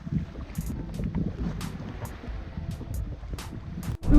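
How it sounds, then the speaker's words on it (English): Wind blowing across the Tolomato River at a kayak launch, a steady low rumble with buffeting gusts on the microphone and faint water movement, no voices. "Ooh, it's kind of rough right now. Hopefully that wind dies down."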